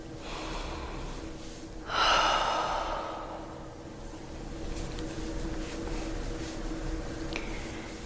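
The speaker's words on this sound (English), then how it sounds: "take another big deep breath here" During a calm New Year reflection session, someone takes a single big, deep breath, a soft airy inhale and exhale rising above faint background hiss and then fading away.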